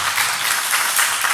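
A church congregation at a Sunday morning service claps in a brief, lively burst of applause to welcome visitors, with dense overlapping hand claps that are close and loud.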